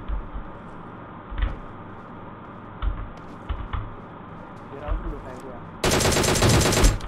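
Gunfire in the mobile game PUBG Mobile: scattered single shots, then a loud, dense sustained burst near the end, with voices talking faintly underneath.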